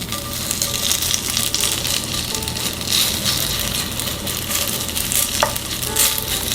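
Zucchini batter pancakes fry in plenty of oil in a pan, a loud, dense and continuous sizzle with crackling spatter, close up and steady, with no talking.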